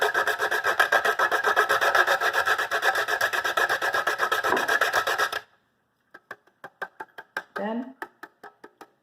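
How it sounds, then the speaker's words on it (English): A cinnamon stick rasps back and forth on a grater in fast, even strokes, loud and close, for about five seconds, followed by scattered softer scrapes and taps. "I'm going to grate the cinnamon"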